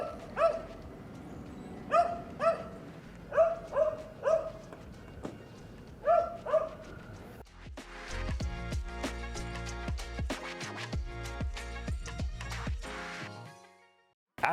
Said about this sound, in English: Somebody left their doggy over there.